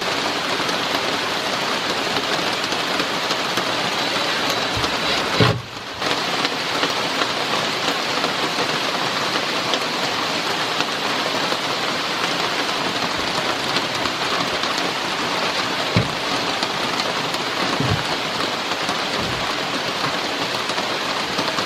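Steady, dense rain pouring down without pause, a continuous hiss with occasional faint knocks, heard alone with no voices.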